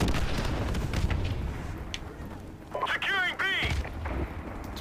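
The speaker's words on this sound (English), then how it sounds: "Pretty good nade." A grenade blast in Call of Duty 4: Modern Warfare Remastered, a deep boom amid ongoing gunfire and game noise, with a player talking over the action.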